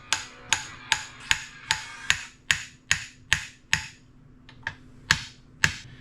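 A steady series of sharp steel-face hammer strikes on a metal engine part, about a dozen blows in a regular rhythm with a brief pause near the end.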